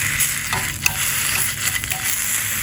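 Food sizzles and crackles loudly and steadily in two hot skillets, with occasional ticks and light stirring or tong sounds, no talking.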